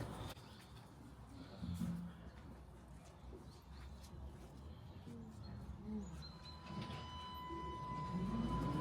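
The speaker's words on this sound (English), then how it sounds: "So here we are, just taking the tram back to grandparents." Steady rumbling ride noise of a tram in motion in Jurmala, Latvia, with faint rattles, a thin whine and distant bird-like coos over the hum.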